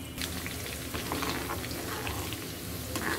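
Dried chilies fry in hot oil, giving a steady, rain-like crackle close by with small popping specks throughout and no voices.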